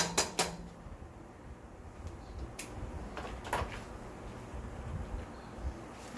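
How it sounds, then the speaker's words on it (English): A bowl is fetched in a home kitchen: a few sharp clinks and knocks of dishware and a cupboard or drawer, then quieter scattered handling clatter against a soft room background. "And I'm going to get a bowl and finish it up."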